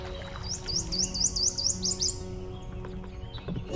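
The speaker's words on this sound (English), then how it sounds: "The birds are really active this morning." Small birds sing along a river in the morning, a quick series of repeated bright chirping phrases rising over a steady low background rumble, fairly close and clear for the first two seconds before fading into scattered faint calls.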